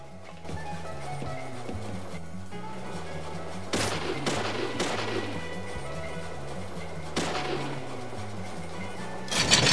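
Gunshots in the game Deadly Premonition go off as a few sharp cracks over a steady, droning musical score during a clock tower showdown, with a final shot near the end.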